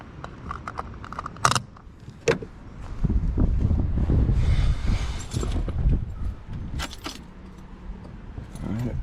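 Car keys jangling in a Nissan 300ZX during starting: a few bright metallic key jingles, then a loud rumbling engine crank and catch, followed by more scattered key rattles and clicks, close by.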